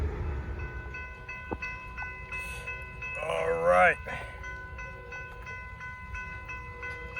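A Norfolk Southern freight train rolls past a trackside spot in Gaffney, South Carolina, with a steady rumble and a prominent horn blast in the middle, while a person speaks briefly nearby.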